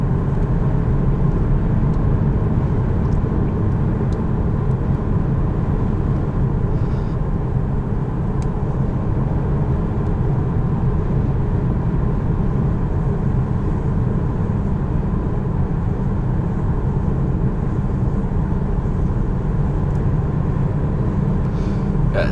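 A 2014 BMW 550i xDrive 5 Series heard from the cabin while driving on a hot day: a steady, loud low engine and road rumble with tyre roar, continuous and even throughout, with no voices.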